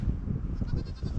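Goats bleat in a petting enclosure with several short, close calls overlapping in quick succession.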